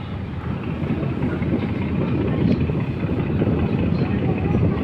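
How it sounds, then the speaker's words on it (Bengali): A sand cargo ship passes on the Meghna river with a continuous low rumbling drone of engine and water, loud and steady under wind noise, with no distinct events. "এগুলো বালুর কার্গো জাহাজ, বালু নিয়ে যাচ্ছে।"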